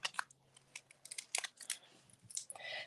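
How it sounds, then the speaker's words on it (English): Scissors snip through ribbon in a quick series of close, crisp cuts, some clustered in rapid bursts with short pauses between, no talking over them. "I can get my ribbon cut open. Try not to cut my ribbon."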